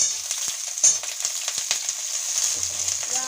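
Potato pieces frying in hot oil in a pan with bitter gourd, a steady close, loud sizzle with scattered crackles and stirring scrapes throughout.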